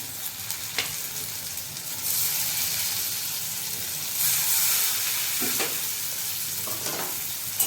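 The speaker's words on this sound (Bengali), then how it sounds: "সবজিগুলো ভালোভাবে মিশিয়ে নেব। হালকা করে একটু ভেজে নেব।" Chopped tomato and vegetables sizzle and fry in a pan while being stirred, a steady hissing with bursts of louder spitting and occasional scraping knocks from the spoon, close and unaccompanied by speech.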